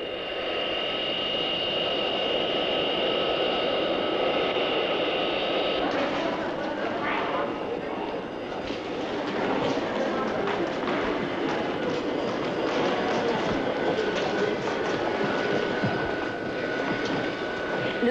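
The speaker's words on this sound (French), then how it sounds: "Le vol de Paris vient juste d'atterrir" Airliner just landed on a flight from Paris, a loud steady engine roar and rushing whine that shifts and swells midway, continuing throughout under occasional background voices.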